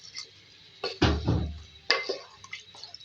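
Water is poured into a pan of simmering aloo gobhi (potato and cauliflower) curry in a few short, soft splashing bursts, with no talk.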